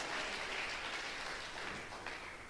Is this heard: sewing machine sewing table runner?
no